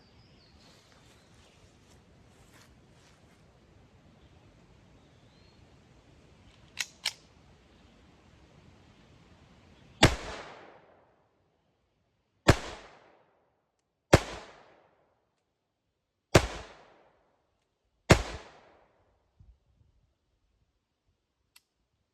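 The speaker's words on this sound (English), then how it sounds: "I'll shoot it, we'll check out the target, then I'll step back." Five sharp, loud gunshots from a Phoenix Arms HP22A pistol fired at a target about five feet away, spaced roughly two seconds apart after a quiet stretch with a couple of faint clicks.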